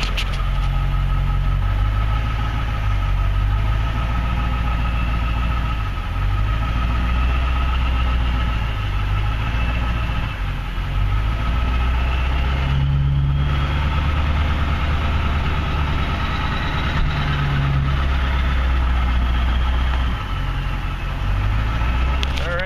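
Ford F250 Super Duty with a 7.3 Powerstroke diesel idles steadily, a deep low rumble filling the whole stretch while someone talks over it at times.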